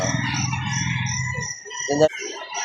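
A crossbreed laying hen clucks close up, with a steady layered flock of chickens and roosters behind it and a sharp squawk near the end, all loud and continuous.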